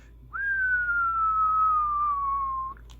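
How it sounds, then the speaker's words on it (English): A person whistles one long, clear note that slowly glides downward for about two seconds into the microphone of a Radioddity QT80 CB and ham radio, heard alone against a quiet background. "Let's give a little whistle."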